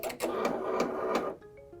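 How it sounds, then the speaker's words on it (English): A multi-needle embroidery machine whirs mechanically as it shifts its needle position, a close, steady motorized buzz that stops abruptly, followed by faint beeps. "I'm just going to move the needle position to number 6."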